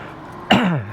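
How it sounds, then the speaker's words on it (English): A single harsh, throaty cough bursts out close by after a moment of quiet, trailing off into a rough rasp. "I haven't been able to stop coughing since"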